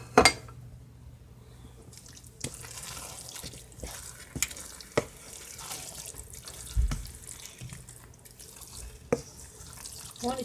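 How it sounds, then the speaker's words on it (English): Half a cup of water poured into rice for corned beef jollof rice, heard as a running, splashing trickle with scattered drips and light clinks from the pot, close by and fairly quiet. "Now I'll be adding just a little bit of water. I would say half a cup of water. And then pour it into the rice."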